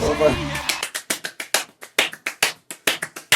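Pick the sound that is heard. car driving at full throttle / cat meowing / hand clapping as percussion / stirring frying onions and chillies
hand clapping as percussion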